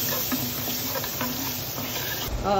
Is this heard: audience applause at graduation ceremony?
no